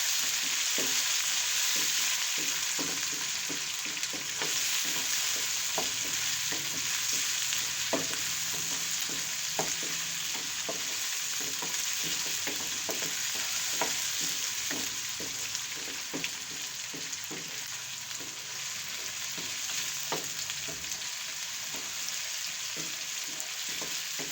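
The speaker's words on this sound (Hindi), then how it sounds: "इन सब चीज़ों को अच्छे तरीके से भून लेते हैं।" Tomatoes and spices sizzle steadily in a pan for dal, a constant hiss with frequent scrapes and taps of a spoon stirring, close and fairly loud, no voices.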